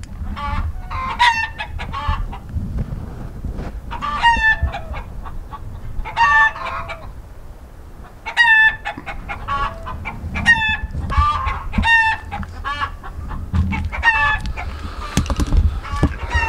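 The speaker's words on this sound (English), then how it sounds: "my chickens were clucking up a storm. Even my rooster was going crazy." Several hens cluck and squawk repeatedly nearby while a rooster crows a few times, with a low rumbling background throughout.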